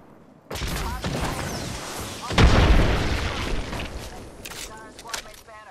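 A frag grenade detonates in the Apex Legends video game, a loud broadband boom landing midway through a dense stretch of gunfire and game noise that trails off into a rumbling tail.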